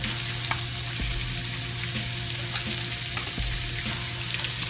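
Shrimp fry in butter in a pan, giving a continuous, even sizzle with soft crackles throughout, close and moderately loud with no talking.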